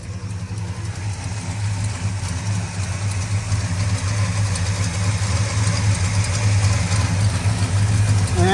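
A car engine idling with an electric radiator fan running on a new radiator, a steady low rumble and whirring drone that holds constant and grows slightly louder over several seconds, with no voices.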